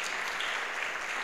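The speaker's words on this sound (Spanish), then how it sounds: "Da un aplauso al Señor." Pentecostal church congregation claps together in a dense, even wash of applause that fills the whole brief moment without a break.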